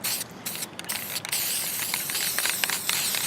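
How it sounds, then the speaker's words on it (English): A spray paint can hisses in long, steady bursts over model brick panels, with a few brief pauses early before a continuous close spray. "We got my spray can."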